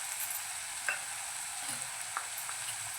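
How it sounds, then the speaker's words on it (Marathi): Pav bhaji with spices being stirred in a pan: a constant hissing sizzle with occasional soft scrapes and taps of the spoon against the pan, close and fairly quiet. "एकदा आपण फिरवून घेऊया"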